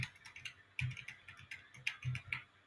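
Computer keyboard keys are pressed to scroll down a page, giving a quiet, irregular run of soft clicks and taps at close range with no voices.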